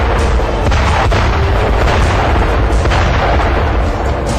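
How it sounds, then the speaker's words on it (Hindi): Bombs dropped by an F-16 fighter jet explode on a building sheltering ISIS militants, producing a loud, dense, continuous rumble broken by repeated heavy blasts, with no voices. "इसके बाद बिना देरी किए बम गिरा दिए गए।"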